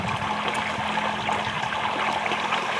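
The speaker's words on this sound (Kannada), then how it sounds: "ನೀರು ಸ್ವಲ್ಪ ತಿರುತ್ತೇನೆ ನೋಡಿ" Water from a plastic bottle runs in a steady, close trickle, continuous and fairly loud, in a sugarcane field.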